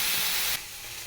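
Fish heads, including bhetki, dropped into hot oil in a kadai give a loud hissing sizzle that cuts down abruptly halfway through, then continues as a softer steady fry.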